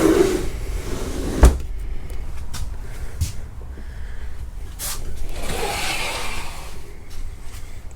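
A sliding barn-style door in a Fuzion 430 toy hauler RV rolls and knocks on its track nearby, with a sharp thud early on and a few softer bumps and rattles afterward.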